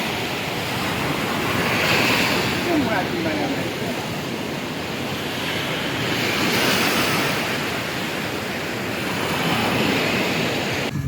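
Ocean surf rolls in continuously at Marina Beach in Chennai, a loud, broad wash of breaking waves swelling and easing, mixed with wind buffeting the microphone.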